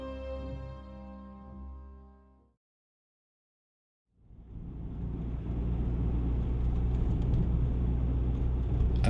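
A car drives out toward Chainhurst, a village near Marden, with a steady low road rumble and engine drone that fades in after a short silence and holds loud and constant to the end.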